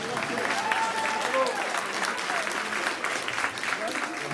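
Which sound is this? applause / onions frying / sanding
applause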